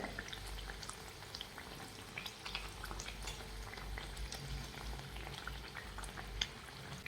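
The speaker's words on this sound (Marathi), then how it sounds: "गॅस कमी करूयात आणि पुरी दोन्ही साईडनी व्यवस्थित तळून घेऊयात" Masala puri made from jowar flour deep-fries in oil on low heat, giving a quiet, crackling bubbling with many tiny pops throughout and no one speaking.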